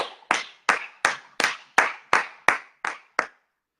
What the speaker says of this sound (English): Just keep clapping until it.